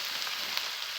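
Chicken offal, gizzards and other innards stir-fried with ginger in a hot pan, giving a steady, close, loud sizzle with brief spatters and scraping and no voices.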